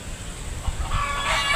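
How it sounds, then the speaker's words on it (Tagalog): A rooster crows faintly in the distance over a steady low rumble and outdoor background noise. "Ang ingay-ingay ng manok."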